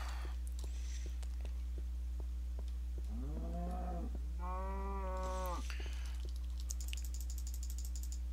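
Cows in Minecraft give two drawn-out moos, close and clear, over a steady low hum and constant computer keyboard typing.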